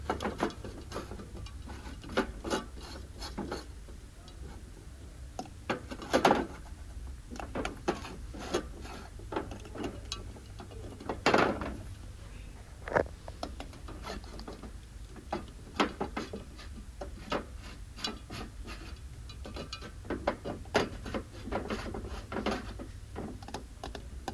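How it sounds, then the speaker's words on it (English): Plastic lids clatter and click repeatedly up close, with scattered sharp taps and knocks in an irregular rhythm; no voices. "those lids are they make such a good sound"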